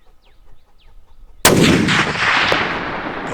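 A single powerful blast from a brand new .338 Lapua hunting rifle, sudden and very loud after quiet rustling, with a long rolling echo that fades slowly outdoors.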